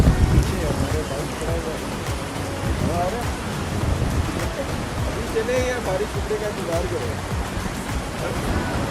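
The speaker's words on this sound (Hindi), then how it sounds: "बारिश ख़त्म नहीं हो रही और तेज़ हो जा रही है।" Dense, hissing rain pours steadily throughout, loud and close, during a motorcycle tour from Naran to Saiful Malook, with a person talking intermittently underneath.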